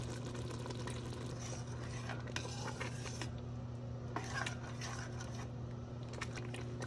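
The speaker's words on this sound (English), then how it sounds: "I'm just gonna keep stirring until I don't feel it sticking anymore" A metal spoon stirs and scrapes homemade SpaghettiOs across the bottom of a pot, a series of close, gritty scrapes over a steady low hum.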